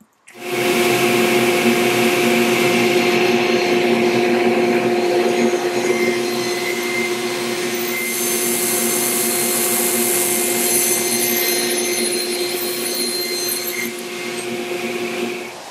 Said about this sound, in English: gotta empty the bags on the dust collector